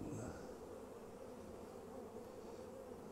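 Honeybees hum steadily around an open hive during a sugar-shake check for external parasites, a faint, continuous buzzing drone with no pauses and no one talking.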